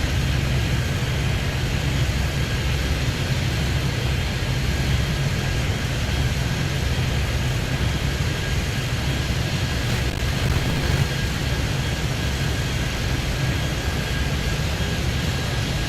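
Airliner engines roar steadily on takeoff in the air-traffic-control game Airport Madness. The sound is one continuous, loud, unchanging drone that runs the whole time, with no talk over it.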